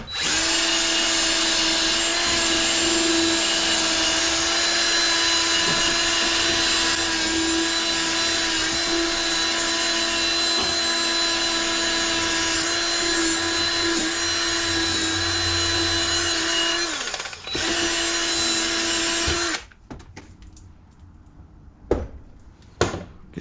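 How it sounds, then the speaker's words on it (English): A crankshaft being cleaned with a wire brush gives a loud, steady whirring drone for about nineteen seconds, then cuts off abruptly, leaving a quieter stretch with a few faint clicks and knocks. "So I'll clean it off with some with a wire brush, and then I'll grease it and then put this back on"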